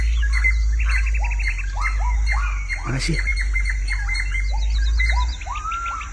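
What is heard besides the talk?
crow and drongo birds calling during a fight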